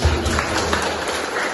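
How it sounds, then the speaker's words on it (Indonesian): Audience applause at a school principal's good-practice teacher community session in Cilacap, a steady dense patter of clapping from a room of people, filling the short stretch evenly from start to finish. "Sekali lagi tepuk tangan yang mulia"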